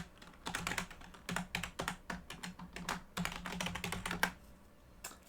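Someone types a password on a computer keyboard: close, quiet key clicks in quick bursts with short pauses between them.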